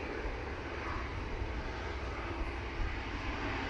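An inbound KLM airliner nears Manchester Airport on a windy day, its engine roar steady, distant and fairly faint, a broad continuous rush with no voices.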